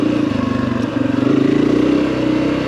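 A Honda 250F off-road motorcycle engine running on a trail, loud and close, with a rapid pulsing four-stroke putter that dips briefly then picks back up and holds a steady rev.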